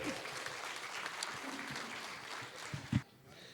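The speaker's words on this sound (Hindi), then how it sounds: "एक बार जोरदार तालियां नदीम भाई के लिए और प्रभा।" A mushaira audience gives hearty applause for the poet Nadeem, a sustained, fairly faint patter of many hands that carries on under a few scattered voices, then ends with a sharp thump as it stops.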